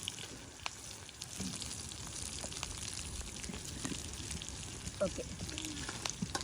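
Mustard seeds, onion, green chili and curry leaves fry in hot oil over an outdoor garden cooking fire, a soft continuous sizzle with scattered pops and crackles, faint and fairly close, with a brief spoken word over it.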